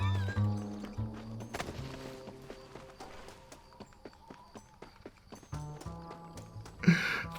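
Horse hooves clip-clop at a walking pace in Red Dead Redemption, a western video game, with an occasional snort or whinny over a background music score and a brief louder burst near the end.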